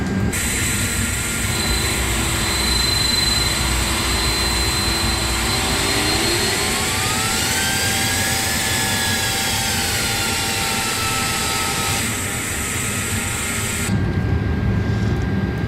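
A KLM Airbus A330-300's number 2 jet engine spools up during start, a loud steady roar with a whine climbing in pitch and then holding, layered over constant cabin rumble.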